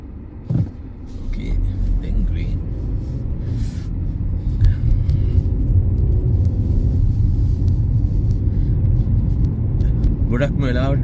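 A car drives on the road between Luxembourg and Calais through Belgium, its steady low engine and tyre rumble heard from inside, continuous and moderately loud, with a brief knock early on and someone talking at the end.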